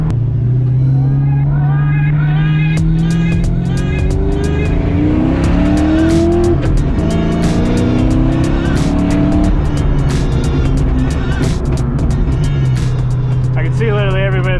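A 1990 Ford Foxbody driving on a sunny California road, its engine droning loud and close with rising and falling revs through gear changes, plus sharp clicks and a brief change in tone near the end.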